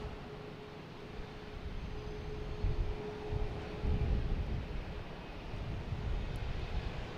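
An Alaska Airlines airliner taxis in to its gate at Boston Logan Airport, a steady low engine rumble with a faint constant whine that swells slightly over the seconds, heard from nearby outdoors.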